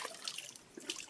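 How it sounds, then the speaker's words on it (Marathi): Running stream water from the Sahyadri hills splashes over hands and feet during washing, with soft, close trickles and intermittent splashes at low volume. "आता हातपाय धुवून घेऊया."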